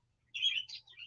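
Tiny rescued pet birds give a few quick, high chirps and tweets close by, in short bursts over near silence.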